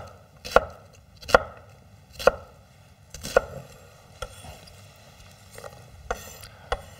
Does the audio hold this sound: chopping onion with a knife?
yes